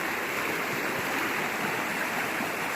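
The East Fork San Gabriel River flows past an overgrown bank in the morning, making a steady, full rushing wash of water that stays even and fairly close throughout, with no voices.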